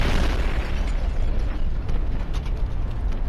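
Grenade rifle explosions in Fallout New Vegas: loud, dense bursts and rumbling booms mixed with mechanical clatter, continuing without a break for several seconds.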